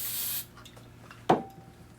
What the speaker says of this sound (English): Take our brake clean. Spray that down real good.